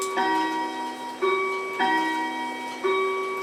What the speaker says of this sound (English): It's a grandma clock.